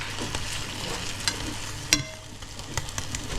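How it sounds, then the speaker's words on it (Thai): Eggs mixed with minced chicken sizzle and crackle in a large hot pan, with scattered pops and a couple of sharp scrapes as the mixture is stirred. "อันนี้ทอดไข่ใส่ไก่"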